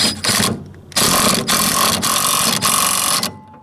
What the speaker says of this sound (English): I'm going to just tighten it back up now.